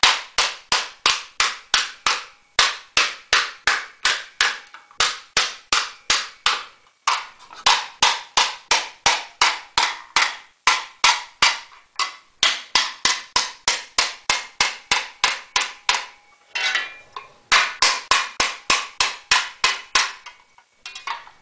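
Rapid, sharp hammer blows on annealed 5052 aluminum sheet, 50 thousandths thick, while shrinking a fender, ringing out in quick regular bursts of strikes with brief pauses between runs, close and loud.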